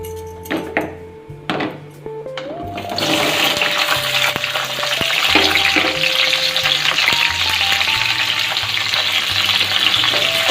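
Pointed gourd (potol) dropped into hot oil in a pan, a few clinks and taps giving way to a loud, steady sizzle of frying that continues close up, with occasional stirring scrapes.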